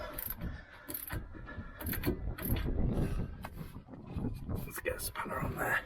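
A socket wrench turns long sockets on tight shock absorber bolts of a Movano van, ratcheting and clicking in short bursts under a voice, close by.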